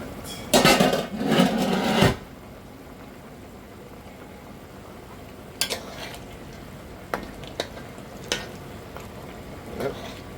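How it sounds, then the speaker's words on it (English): Caribbean-style curry mutton stirred in a pot: a loud scraping, sizzling burst of spoon against pot for about two seconds, then quieter, with sparse sharp clinks and scrapes spread out over a low background. "let's give this curry a stir"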